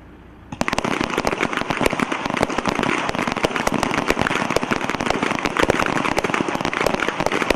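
Rapid, continuous pistol fire at an army small arms championship pistol match, shots overlapping densely from many shooters on the firing line after a brief quiet start, loud and sustained with no talking.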